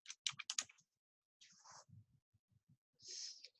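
A computer keyboard is typed on in quiet, close clicks, first a quick cluster of keystrokes, then a few scattered taps and a final soft key press.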